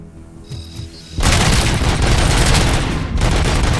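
Gunshots in the Robocop video game, a loud rapid burst of automatic fire that starts suddenly after a quieter stretch of electronic game sounds and keeps rattling continuously to the end.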